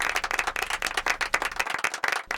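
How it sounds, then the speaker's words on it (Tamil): Audience applause welcoming a speaker to the stage at a Tamil talk show, dense steady clapping from a large crowd that thins out and breaks up toward the end. "பெரிய கரகோஷம் கொடுத்து வரவேற்கிறேன்"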